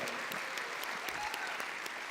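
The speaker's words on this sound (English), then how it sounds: "Give yourselves a round of applause tonight for being here and supporting this community" A crowd at a community fast-pitch fundraising evening gives itself a round of applause, continuous full clapping with a faint voice underneath.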